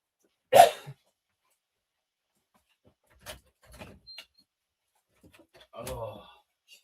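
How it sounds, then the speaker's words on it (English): Dogs bark as they are let out indoors: one loud, close bark, then a few softer, scattered barks and thuds separated by silence. "I'm letting these dogs out so Max isn't whimpering anymore."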